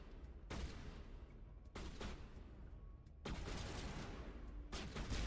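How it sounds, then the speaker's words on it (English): Gunfire in the video game Mass Effect, bursts of rapid shooting coming in three sustained waves, each breaking off abruptly, at moderate loudness with no talking. "Yep, somebody's gonna shoot at me."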